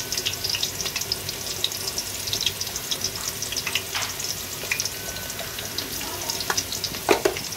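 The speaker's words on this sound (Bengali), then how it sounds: "এখন পেঁয়াজটাও একটু কষে নেওয়া হচ্ছে" Chopped onion and garlic with salt sizzle and fry steadily in a hot pan, a close, continuous crackle with occasional stirring scrapes and clinks.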